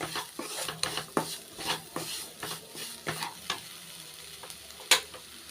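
A banana sweet is lightly sautéed with sugar in a pan, a spoon scraping and tapping in quick, uneven strokes over a gentle sizzle, with one louder clank near the end.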